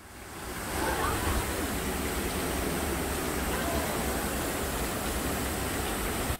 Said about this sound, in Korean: 왼쪽 폭포부터 물이 떨어집니다.